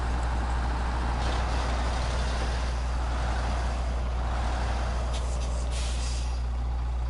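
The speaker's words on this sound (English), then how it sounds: "is it just the truck making noise?" A truck engine in the SnowRunner video game, a continuous low rumble and purr with a faint hiss on top, steady and fairly close throughout.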